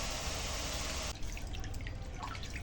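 Water runs at a tap while neem leaves are washed: a loud, steady gush that cuts off abruptly, followed by scattered drips and light splashes of water moving over leaves.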